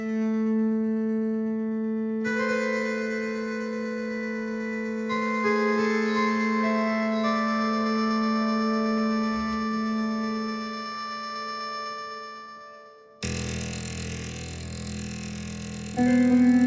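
A glass flute patch from the Tonsturm Wheel of Strings cinematic hurdy-gurdy instrument plays sustained, shimmering tones with shifting overtones. It moves into a brighter, fuller swell near the end.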